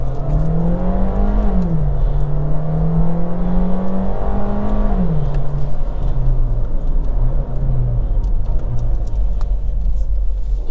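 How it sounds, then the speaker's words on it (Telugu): A 2024 Skoda Slavia sedan with a 1.5-litre 1498 cc four-cylinder engine and DSG gearbox accelerates hard, its loud droning engine note climbing in pitch, dipping at a quick gear change midway, then pulling on steadily under road rumble. "చూడండి ఎంత తక్కువ డిస్టెన్స్లో ఎంత ఫాస్ట్గా యాక్సలరేషన్ అనేది పికప్ చేస్తుంది."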